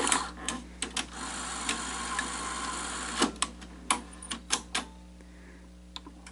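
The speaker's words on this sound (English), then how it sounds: "So we'll go ahead and put the tape in" A tape is loaded into a Sony SL-HF1000 Betamax VCR. Plastic clicks and mechanical clacks come close and faint at irregular intervals, and a quick cluster near the middle sits over a low steady hum.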